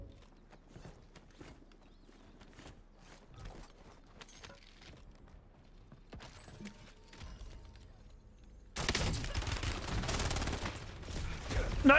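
Video game gunfire from a shooter match: a dense, loud burst of rapid automatic fire erupts near the end after a stretch of quieter scattered shots and footstep-like clatter.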